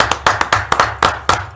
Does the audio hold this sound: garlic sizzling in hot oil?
no